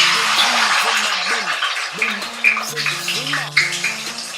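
Chicken wings drop into hot frying oil, a close, loud hiss and sizzle of deep-frying with light bubbling, while someone talks over it.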